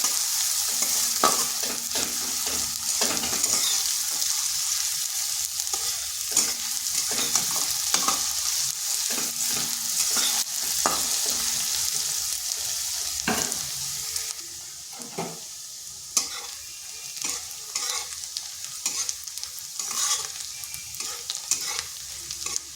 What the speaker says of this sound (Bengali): পেঁয়াজটা বেশ কিছুক্ষণ ভেজে নিতে হবে।